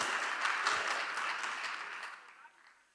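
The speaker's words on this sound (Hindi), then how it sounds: "आप सभी लोगों के लिए एक जानदार ताली होनी चाहिए, शानदार ताली होनी चाहिए आप सभी लोगों के लिए" Audience applause at a speech event swells into a steady, dense wash of clapping, then gradually fades over the last second.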